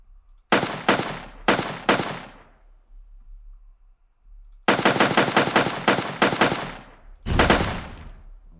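Rapid automatic gunfire in an Unreal Engine 4 game, loud and close, comes in two short bursts, then a long sustained stream of shots, then a final heavier blast, with no talk over it.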